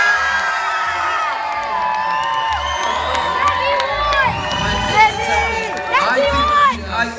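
Loud crowd cheering and whooping at an Irish gaming festival competition, with children shouting and excited voices layered over a steady roar of noise that swells in bursts.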